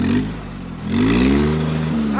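A tractor stuck in a farm field revs its engine while people push it out, giving a loud, close mechanical roar that dips briefly and then climbs in pitch again.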